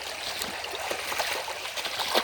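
Creek water runs in a steady broadband rush outdoors in early spring, with a few brighter trickling splashes rising now and then above a continuous wash. No one talks.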